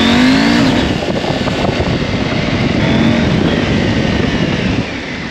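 Husqvarna Norden 901 motorcycle engine while riding, a steady loud drone with rough low-end rumble and some pitch shifts as it revs, heard close and alone without talk.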